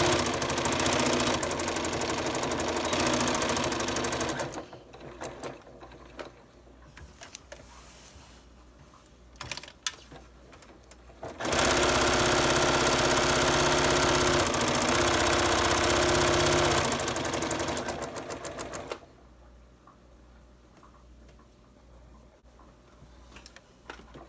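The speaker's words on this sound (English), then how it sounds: "I'm gonna make sure that I backstitch over it" A sewing machine backstitches across a child's apron strap, its rapid needle chatter running in two loud stretches with quieter rattling pauses between, close up and with no talking.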